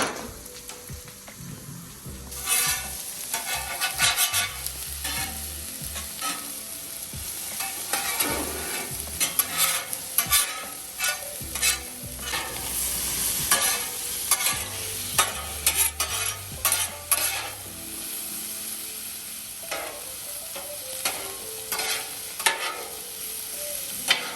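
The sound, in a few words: vegetables and rice stir-frying on a hibachi griddle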